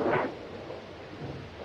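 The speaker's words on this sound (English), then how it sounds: "Storm's just as bad as ever, isn't it? Worse." A low thunder rumble opens with rain and storm noise in a classic noir film, then settles into a faint steady rainy hiss with no talk.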